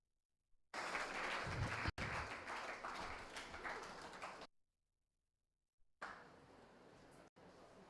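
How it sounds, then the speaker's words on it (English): Round of applause from students and participants at a two-day national conference, filling the room in a steady clapping burst for several seconds, stopping, then resuming briefly. "Let's give a round of applause, students and participants."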